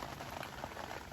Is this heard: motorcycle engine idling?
no